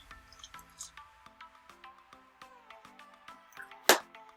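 A bottle of Chippewa Springs water takes an object dropped into it. Light drips and squishy clicks tick along in an uneven rhythm, then one louder, sharper splash lands near the end.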